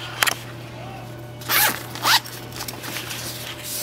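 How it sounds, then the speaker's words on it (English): Zipper on a MAC Pro Zuca makeup bag's pouch pulled in a few quick, close rasping strokes, with short pauses between them and soft handling noise in a quiet room. "zip this bottom part closed like halfway"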